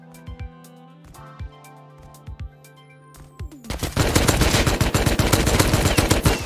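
Loud, rapid automatic AK rifle fire in the survival game Rust, a dense sustained burst filling the second half after a few sparse shots and clicks.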